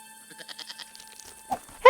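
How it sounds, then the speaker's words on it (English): A goat in Broken Sword 5 gives a short wavering bleat, then a louder, sharper bleat right at the end, close and alone over a quiet background hum. "That goat."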